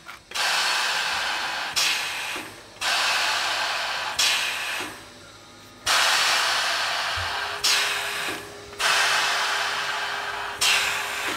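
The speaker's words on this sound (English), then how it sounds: "our pneumatic shrinker over here," A pneumatic shrinker works sheet steel in loud, harsh air-driven bursts of a few seconds each, broken by brief pauses, close and without talk.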